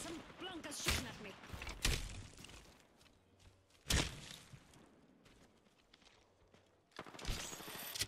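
Gunfire in the video game Apex Legends: several sharp bursts of shots spaced a second or two apart, then a heavier volley at the end, with footsteps and faint game sounds between.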